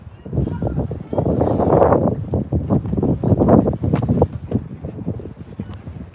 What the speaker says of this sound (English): Oh, I just wish it wasn't so windy.